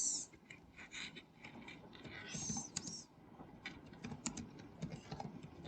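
Keys tapped on a computer keyboard while entering a short note, coming as soft, irregular clicks in brief bursts at close range, with faint background noise throughout.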